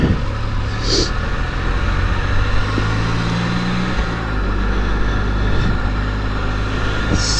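Can-Am Spyder three-wheeled motorcycle running on the road, its engine a steady low drone under constant wind rush, loud and close throughout with no pauses.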